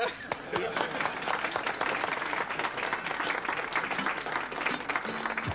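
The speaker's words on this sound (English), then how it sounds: "The applause for the men who have turned old France into new Norway has faded away" Sustained applause from a large audience honouring shipyard workers at the rebuilding of the liner SS Norway, formerly the France, dense clapping steady and loud throughout without a break.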